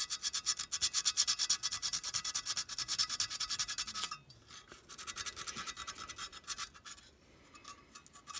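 Hand sanding paint off a tin clockwork locomotive: rapid, rhythmic scraping strokes, close and fairly quiet, with a short pause partway through before the rubbing resumes.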